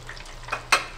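Quiet sizzling of coconut shrimp frying in oil, with a couple of brief louder crackles and soft stirring sounds, no voices.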